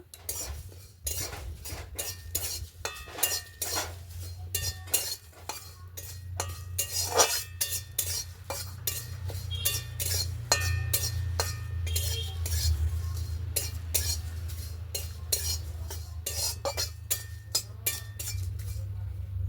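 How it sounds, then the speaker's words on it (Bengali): Bay leaves and cumin frying in a pan are stirred with a metal utensil, giving quick, rhythmic clinks and scrapes against the pan over a low steady hum. It is close and moderately loud, with no talk. "একটু তেজপাতা আর জিরে মশলার জন্য ভালো করে ভেজে নেব।"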